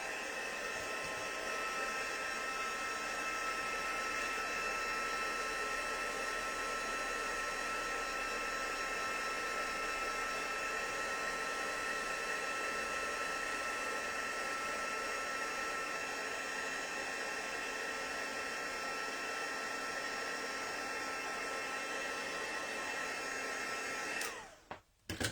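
A heat tool blows on stamped, inked paper, making a steady whirring hum and airy rush that runs close and unbroken for about 24 seconds before cutting off abruptly.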